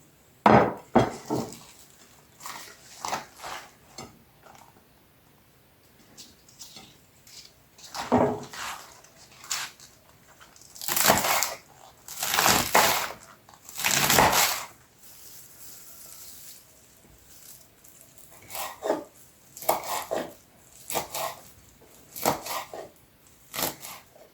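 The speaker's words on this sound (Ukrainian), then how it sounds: "Тут у мене зелень цибулі, петрушки, кропу і чеснику. Все це ми нарізаємо дрібно." A knife chops green onion, parsley, dill and garlic finely on a board in quick clustered runs of crisp taps, separated by short pauses, close and clear with no talk.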